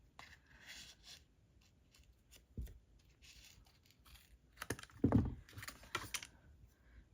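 A sheet of craft material is cut with soft, close snipping and scraping strokes, quiet at first and then a denser burst of cutting near the end, with no talk.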